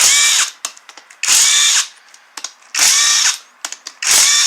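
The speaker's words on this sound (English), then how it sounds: "You do have to remove the cams to take off the head bolts, and we're going to get to doing that now." Power tool removing head bolts from a Toyota 2AZ-FE engine during a Camry teardown: three loud whirring bursts of roughly half a second each, separated by brief pauses and small clanks.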